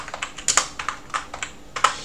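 Fingers tap out a short command on a computer keyboard in a Linux terminal, about a dozen quick, close, light keystrokes in an uneven rhythm, with no talking.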